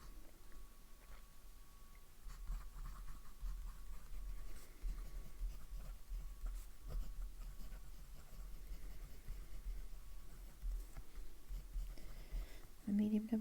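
A Pelikan M205 fountain pen with a medium nib scratching faintly across paper in a continuous soft stroke, very quiet and close, with a faint low hum beneath.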